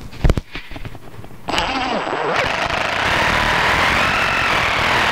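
A power driver whirs steadily as it sinks self-tapping screws through a bracket of a RollBak G2 tonneau cover, starting after a few sharp knocks and running continuously to the end, close and fairly loud.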